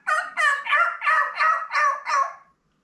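A man imitates a wild turkey gobble with his mouth, giving a loud, close, rolling call of about six rapid pulses before it cuts off into silence.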